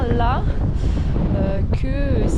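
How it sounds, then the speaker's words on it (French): Strong wind buffeting the microphone outdoors, a constant loud low roar throughout, with a person talking over it. "il y a énormément de vent"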